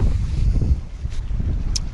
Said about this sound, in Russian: ветер, ребята, очень сильный